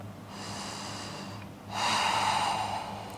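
A deep yoga breath during a strength and mobility vinyasa flow: a long, steady breathy inhale, a brief pause, then a louder, fuller rush of air, close and clear with no talking.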